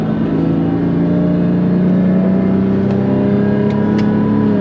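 A Porsche 997.1 Carrera S with a Tiptronic automatic gearbox revs steadily, its engine note holding loud and close as the pitch climbs and shifts through a gear change, with no talking.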